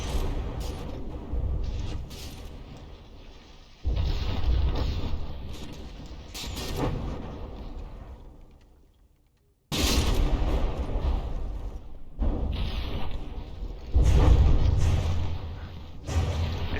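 Naval shells land and explode on a battleship in a video game, with dense bursts of heavy rumbling blasts and crackling impacts, a brief lull, then renewed loud explosions.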